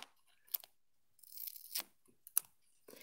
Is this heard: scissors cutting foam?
yes